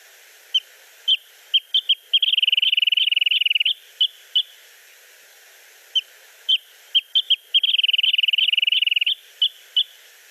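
Two wrentits singing in hillside scrub, clear bright whistled notes that start as a few spaced pips and speed up into fast bouncing-ball trills, repeated twice, close and alone against a quiet background.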